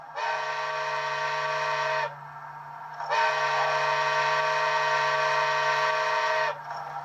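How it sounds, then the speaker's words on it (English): A model steam locomotive's sound-equipped whistle, on a Bachmann GS4 4-8-4 with DCC sound, pitched higher than the real locomotive's, sounds twice, a two-second blast then a longer one, over a constant low hum. "Whistle higher pitched than the prototype."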